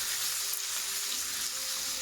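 Onion, garlic, ginger and tomatoes sizzle steadily in a pan for a chicken lababdar curry, a continuous close hiss of frying with no talk.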